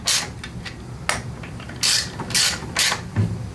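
A ratchet wrench clicks in short repeated bursts while retightening a fastener on a Little Wonder edger powered by a Honda GX-120 engine, close and loud with brief pauses between strokes.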